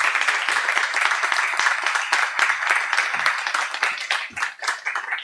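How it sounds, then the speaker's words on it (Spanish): An audience at a science talk night in a bar claps in a lively, continuous burst of applause, close and fairly loud, with individual hand claps audible in the dense patter throughout. "Por favor, un aplauso, edición 23."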